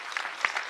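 A small audience claps in a room, a brief patter of scattered hand claps with a few sharper single claps standing out, thin and sparse rather than a full ovation.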